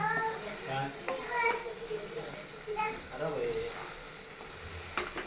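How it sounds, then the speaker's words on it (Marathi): Carrot halwa fries and is stirred in a pan, a low steady sizzle broken by scraping spoon strokes, heard under someone talking and children's voices nearby. "5 मिनटं त्याला असं हलवायचं छान"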